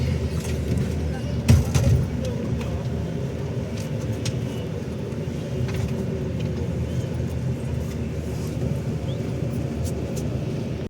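A sleeper bus on the night run from Tirupati to Hyderabad rolls through city streets with a constant low engine and road rumble, while people talk over it.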